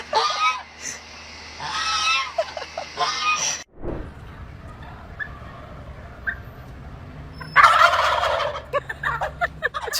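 Turkeys gobbling in rapid, warbling bursts, loud and close, with a brief break and muffled noise before more gobbling calls; voices may be mixed in.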